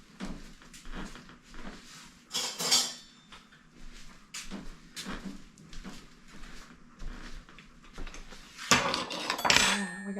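Metal spoons and forks clink and rattle against one another while someone rummages through kitchen utensils during dog-cake prep. The clinks come in irregular, close bursts, with louder clatters near the start and the end.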